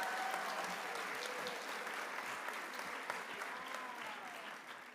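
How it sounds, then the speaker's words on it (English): An audience at a physical therapy commitment ceremony claps steadily in a large room, a fairly faint, even patter of many hands that slowly tapers toward the end. "Give her a big round of applause."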